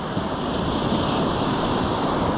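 Sea waves and gusting wind on the Baltic shore at Užava form a loud, steady wash of surf and buffeting air with no speech.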